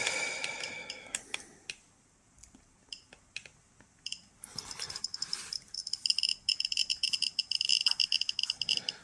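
A Geiger counter clicks in irregular bursts as it picks up gamma radiation from a smoke detector source, with sparse clicks at first growing into dense, rapid clicking.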